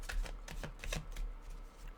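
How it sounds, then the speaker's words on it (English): Tarot cards are shuffled quickly by hand, a series of crisp riffling bursts in rapid rhythm, close and fairly quiet with no talking. "So let's just start the shuffling over really fast."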